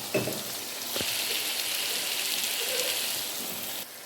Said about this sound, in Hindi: मसाले को अच्छे से भूनेंगे